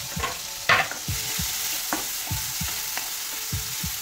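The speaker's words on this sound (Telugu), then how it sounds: "ఆయిల్ హీట్ అయిన తర్వాత సో ఇవన్నీ ఫ్రై చేసుకోవాలి" Tomato, onion and carrot fry in hot oil with a continuous sizzle, broken by repeated scraping and stirring strokes of a utensil in the pan, close and steady.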